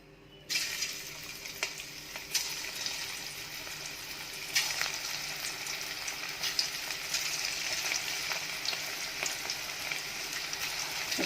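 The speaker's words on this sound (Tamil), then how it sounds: "இப்போ நம்ம பக்கோடா போட்டு எடுத்துக்கலாம்" Hot oil sizzles and crackles steadily as chicken pakoda fries, a dense hissing that swells when pieces are dropped in, close and continuous.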